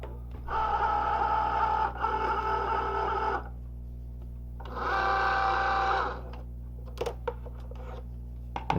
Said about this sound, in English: I'll go ahead and load the mat into the machine.